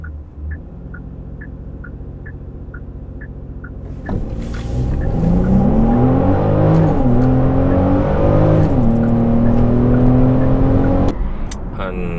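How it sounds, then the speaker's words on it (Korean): A Genesis GV70 SUV idles with a ticking indicator, then accelerates hard in a straight line, the engine droning up through rising pitch with a gear shift, loud and sustained from inside the cabin. "직진 가속을 한번 시도해 보도록 하겠습니다"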